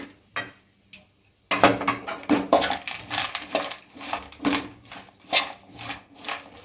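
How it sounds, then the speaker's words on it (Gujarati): A spoon or spatula scrapes and clinks against a pan as dates are stirred together with fried dry fruits for khajur ladoo, in irregular close strokes after a few quiet taps. "સારી રીતે આપણે મિક્સ કરી દઈશું।"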